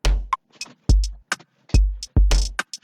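An Afro drum beat made in FL Studio, heard dry without the Autoformer plugin: a booming kick lands in a syncopated pattern under crisp percussion hits and shakers, loud and close with gaps between hits.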